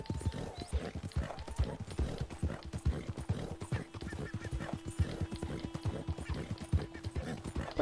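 Steady rhythmic clip-clop of horse hooves at a trot in Red Dead Redemption 2, continuous and fairly close, with faint ambient game sounds and a low steady hum behind.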